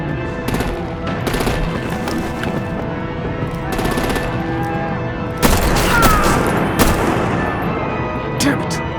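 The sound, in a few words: gunfire and artillery in Batman: The Enemy Within video game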